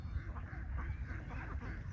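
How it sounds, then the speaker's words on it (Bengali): Ducks on the Titas river quack in quick irregular bursts at moderate distance, under low background noise. "এটি সবগুলো হাঁস নদীতে চলে গেছে।"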